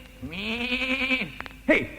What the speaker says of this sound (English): get that goat out of here.